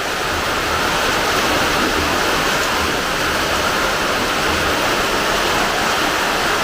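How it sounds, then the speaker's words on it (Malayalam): Light rain falling in a steady drizzle, a continuous even hiss without distinct drops or pauses, with no voices present. "ചെറിയൊരു മഴച്ചാറ്റം."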